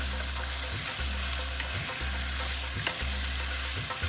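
Beef stir-frying in oil over very high heat, a loud continuous sizzle with a regular rhythmic scrape of stirring roughly once a second, close and alone.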